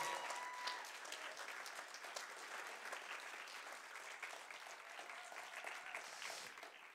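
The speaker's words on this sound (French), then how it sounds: "vous pouvez vous applaudir" Participants of a three-day Re Cycle 2022 workshop applaud themselves, a steady, dense round of clapping from a room full of people that holds at an even level throughout, with no talking over it.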